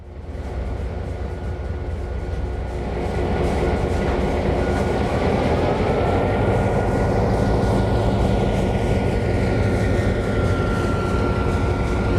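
A diesel freight train with DPUs in the Trainz 22 simulator rumbles and rolls as it slows to a stop, a loud continuous mechanical drone with rail clatter and a steady high whine throughout.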